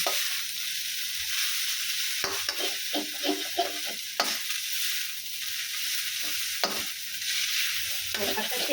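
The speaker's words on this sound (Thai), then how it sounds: "ยายก็จะใส่กระเฉดลงไปเลยค่ะ" Water mimosa stir-fried in a hot pan for a rice-noodle dish with fresh shrimp, a loud continuous sizzle broken by repeated scraping stirs of the spatula, close up, with no talking.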